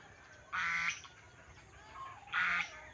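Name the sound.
geese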